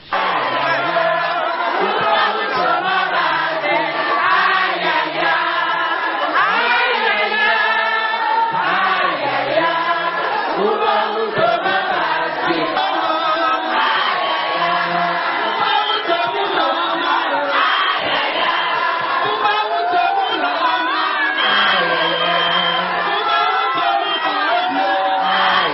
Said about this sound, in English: led the crowd in rendering some of the trademark campaign songs